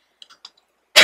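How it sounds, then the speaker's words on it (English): A few short, soft coughs or throat clicks in quick succession, close to the microphone, during Hypixel Skywars gameplay, followed by a sudden burst of loud noise at the end. "I'm coughing way too much today."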